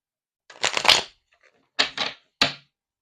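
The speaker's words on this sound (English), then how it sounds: "let me get one more shuffle." Tarot cards are shuffled by hand close up, with a long riffle of crisp flicking followed by two or three short, sharp bursts of cards snapping together in a quiet room.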